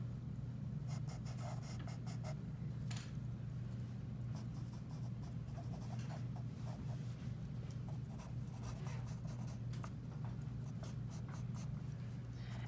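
Charcoal scratching across paper while drawing a darker outline of a skull, a soft, continuous, close-up scraping made of short strokes over a steady low hum.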